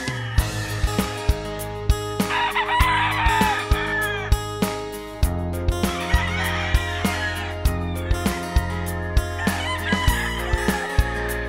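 Hens and roosters in a breeding pen with five hens and a top nest, crowing loudly and clucking over a steady, busy flock chatter, with several crows rising and falling across the stretch.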